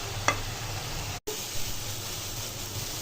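Taro stolons and shrimp are stir-fried in a pan, making a steady soft sizzle with a sharp clink near the start and a brief dropout partway through, and no one talks.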